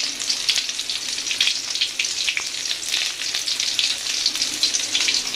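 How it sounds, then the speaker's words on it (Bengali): Sarputi fish fries in a pan with a dense, continuous close-up sizzle and crackle that holds steady throughout, no voices over it. "মাছ ভাজতেছি এখন।"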